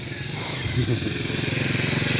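A motorcycle engine drones loudly and close by, its pitch rising slightly as it passes, with a faint voice briefly audible under the engine noise.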